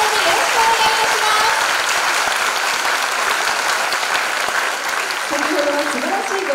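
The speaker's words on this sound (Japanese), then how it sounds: "大きな拍手でお迎えください" Steady applause from a large audience at a lecture by a Nobel Prize–winning physiologist, sustained even clapping filling the hall at full strength throughout, with faint tonal sounds under it.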